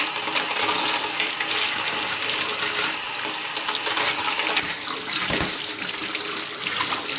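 Tap water runs steadily into a sink while dried red beans are rinsed, a constant close hiss and splash with brief clattering of beans and a short dull knock partway through.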